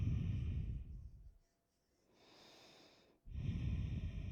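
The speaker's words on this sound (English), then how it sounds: "Take a deep breath in" Deep breathing during a yoga practice: a loud close exhale, a pause, a softer drawn-in breath, then another strong exhale.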